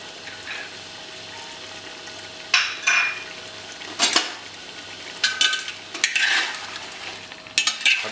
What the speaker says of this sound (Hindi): अब इसे अच्छा मिक्स करके